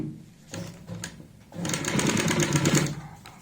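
A sewing machine stitches a salwar waistband fold in two runs, a brief start and then a longer, louder burst of rapid stitching up close, with no talking.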